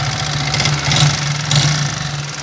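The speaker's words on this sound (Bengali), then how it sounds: "এখন এটা বাইকের সিলিন্ডার ব্লক চলে গেছে অলরেডি, সাউন্ড এত খিচড়ি অবস্থা।" Yamaha R15 V3 motorcycle engine running with a fault, a loud, close, steady idle with a rough, uneven tone and two brief surges in revs.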